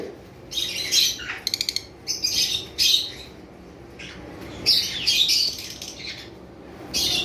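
Small birds chirp and squawk in busy bursts, close and fairly loud, with short rapid trills and brief pauses between flurries.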